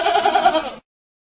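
Goat bleat from an alphabet learning game for kids, a single loud, wavering cry under a second long that cuts off sharply into silence.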